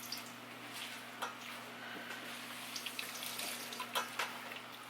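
Water squeezed by hand from a vegetable mass for a low-carb pizza crust runs and splashes into a sink in a steady trickle, with occasional small drips and squelches over a low constant hum.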